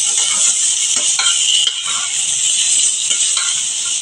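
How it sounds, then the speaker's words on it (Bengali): Raw mango pieces fry lightly in oil with panch phoron, chilli, salt and a little turmeric, giving a steady, even sizzling hiss throughout with faint scrapes of stirring. "এখন আমি আমগুলো ছেড়ে দিচ্ছি, স্বাদ অনুযায়ী নুন দিয়ে দিচ্ছি, সামান্য হলুদ দিয়ে দিচ্ছি। বেশি কিন্তু ভাজবো না, হালকা করে একটু ভেজে নেব।"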